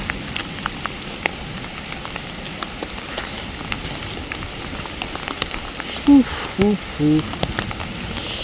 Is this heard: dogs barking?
no